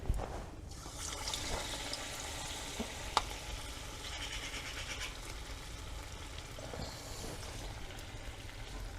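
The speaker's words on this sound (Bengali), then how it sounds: "এরকমভাবে আমি সবগুলো ভেজে নেব" Pieces of paneer frying in hot oil, a quiet continuous sizzle and bubbling with an occasional clink of a utensil against the pan, and no voices.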